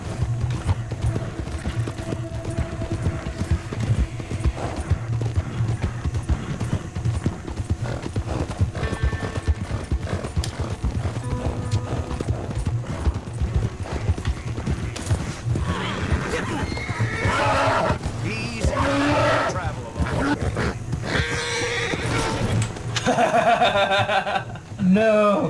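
A horse in a western video game, with steady clip-clopping hooves and a neigh, under continuous casual talk between players and some background game sounds.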